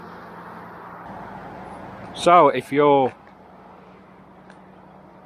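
Road traffic rumbles steadily nearby as a low continuous drone, briefly interrupted by someone speaking for about a second.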